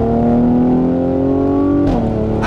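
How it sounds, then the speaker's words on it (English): A 2017 Mercedes-AMG C43 convertible with a sport exhaust and nine-speed transmission drones loudly up close, its engine note sliding through downshifts, each marked by a sharp crackling blip from the exhaust. "right now, as you can hear, with the downshifts we always have a gas reaction with shifting"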